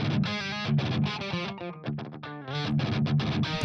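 Heavily distorted electric guitar played through a BIAS Desktop amp preamp, chugging chords and riffs with a thick, saturated crunch, loud and alone.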